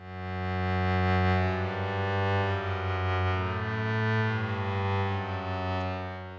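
Synth strings patch in FL Studio with no unison voices, sustained chords sounding thinner and buzzier, steady and fairly loud, fading slightly at the end, alone without talk.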